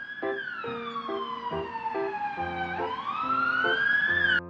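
A police car siren wails steadily, its pitch sliding slowly down and then climbing again in a long, loud sweep, heard alone without talk.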